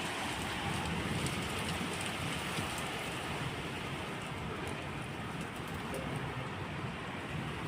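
Steady heavy rain mixed with hail pours down in wild weather in Lower Hutt, a dense, hissing patter on surfaces, constant and fairly loud throughout, with scattered harder hail impacts.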